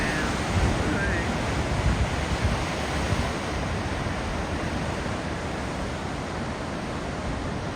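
Sea surges and roars up a narrow rock channel at Jack's blowhole in the Catlins, a steady loud wash of surf with wind buffeting the microphone throughout.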